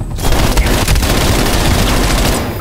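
Relentless automatic gunfire from several weapons rattles nonstop at close range during a VIP Escort match set in Moscow in the shooter game Black Ops Cold War, loud and dense from start to finish.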